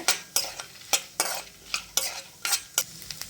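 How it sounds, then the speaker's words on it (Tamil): Lentils with coconut and tamarind being stirred and roasted in a pan: a spatula scrapes out repeated rhythmic strokes about every half second over a faint dry sizzle, close and clear, with no voices. "சேர்த்து நல்லா வதக்கிக்கலாங்க. பருப்பு கொஞ்சம் நல்லா கொஞ்சம் பொன்னிறமாக வறுபட்டு வரணும்."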